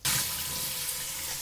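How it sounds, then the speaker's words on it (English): Tap water rushes steadily into a sink as scum is rinsed from a stock pot and chunks of beef, a close, even splashing stream with no talking. "So I'm gonna just wash them off, and also washing off the meat as well."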